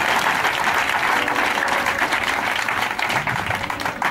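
A church congregation at a Sunday worship service applauds and cheers the Lord, a steady, dense wash of clapping and acclamation that stays loud and even for several seconds.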